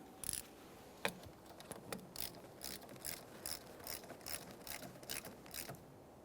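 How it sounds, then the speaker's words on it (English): Ratchet tightening the 10mm battery mounting nut on a Mitsubishi Lancer, a quiet series of rapid, evenly spaced clicks heard close up across about six seconds, with no talk. "Slide that onto the battery as far as possible and tighten the 10mm mounting nut."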